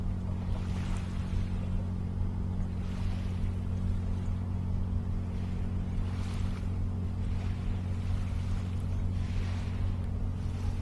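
Large 1,000-foot lake freighters heading into the St. Clair River near the Fort Gratiot Lighthouse give a steady, distant low rumble with wind and water, continuous and unbroken with no talking.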